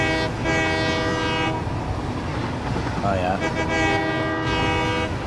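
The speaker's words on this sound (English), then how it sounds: "Put a sound effect of the train's honk behind glass wall." Steam-style train horn from the Satisfactory video game blows in two long sustained blasts, muffled as if behind a glass wall, under a steady rumbling train, with a brief spoken remark in between.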